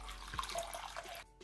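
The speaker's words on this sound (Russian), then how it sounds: "В миску залью теплую воду." Warm water poured into a bowl for proofing dough, a quiet, brief splashing trickle lasting about a second before stopping.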